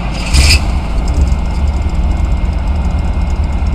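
A Chevrolet K5 Blazer truck engine idles in a low rumble close by after a short burst of noise at the start, running steady and loud on its own.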